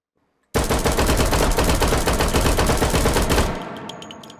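Rapid overlapping pistol fire from two handguns in the VR shooter H3VR, a loud continuous volley of shots lasting about three seconds before stopping abruptly, leaving a brief ringing tail and a few faint mechanical clicks.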